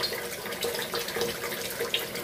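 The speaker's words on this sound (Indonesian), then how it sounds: "Biarkan air mengalir" Tap water runs steadily into a sink while fresh tomatoes are washed under it, a continuous close splashing stream with small gurgles and drips, alone with no talk.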